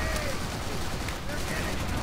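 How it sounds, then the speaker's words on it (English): Rapid, dense bursts from an aircraft cannon in Call of Duty: World at War, a loud continuous barrage of heavy gunfire that fills the entire short stretch without a break. "if you have not already tried using the aircraft cannon against vehicles and people, please do"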